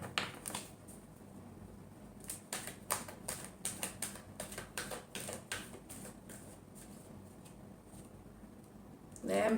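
Tarot cards shuffled in a rapid run of dry papery taps and riffles, fairly close and quiet, with a brief louder rustle at the very end.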